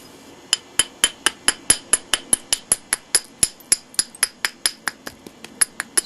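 Stone knapping on a thin biface: about two dozen sharp, ringing clicks fall in a quick, fairly regular rhythm as the edge and platform are worked before a flake comes off. The strikes are loud and close, with no voices.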